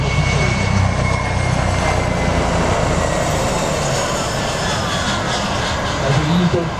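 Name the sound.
large 60-tonne airplane flying past at an air show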